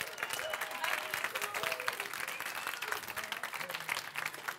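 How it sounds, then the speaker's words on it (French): An audience at a live Bol d'or match show applauds: continuous, energetic crowd clapping, loud and close, with a few voices mixed in. "on leur donne une bonne main d'applaudissement"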